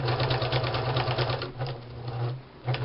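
A domestic sewing machine, freshly oiled and cleaned, runs steadily as it stitches a shabby chic fabric bag, its rapid mechanical whir close and continuous with a short pause before it starts up again.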